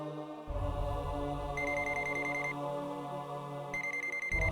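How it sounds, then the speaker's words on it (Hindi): A mobile phone rings in a dubbed action movie scene, a steady electronic tone with bright repeating beeps, loud and alone with no talking. "ये अपने जगन का फोन है भाई"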